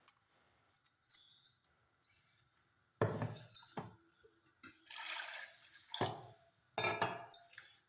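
Tamarind water and coconut paste poured into an Avoli fish curry in a pan, coming as short splashing bursts with gaps of quiet, plus faint clinks of a utensil between pours.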